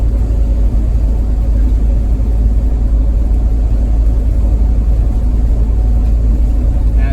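A bus engine under load climbing a hill, heard from inside as a loud, steady low rumble and drone that holds constant throughout.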